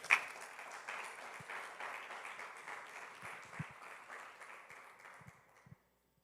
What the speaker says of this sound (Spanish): ¿Me acompaña con un aplauso al Señor, por favor?